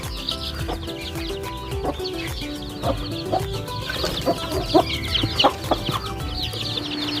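A gamecock hen clucks repeatedly in short, rhythmic bursts, calling her chicks to feed, with other fowl noises faintly around her outdoors.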